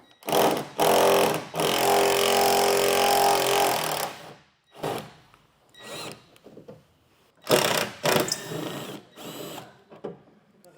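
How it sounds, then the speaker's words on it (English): A cordless drill with a T30 Torx bit whirs in a long sustained burst, then several shorter spins and pauses as screws are backed out of a 2017 Ram 1500 truck bed, close by. "you're going to do that with your T30 Torx bit and drill"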